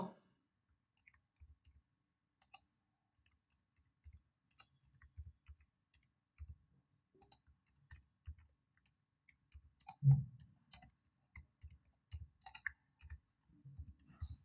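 Quiet computer work while editing a Canva website template: scattered keyboard taps and mouse clicks in short irregular bursts, close but soft, with brief pauses between them.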